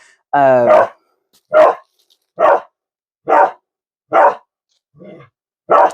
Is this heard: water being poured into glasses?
no